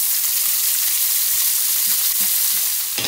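Onions frying in oil in a pan give a loud, steady, close sizzle with faint stirring scrapes throughout and a brief clatter near the end.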